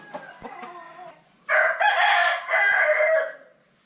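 A rooster crows loudly nearby in Batad, Philippines, in one long drawn-out call, preceded by a few soft clucks from chickens.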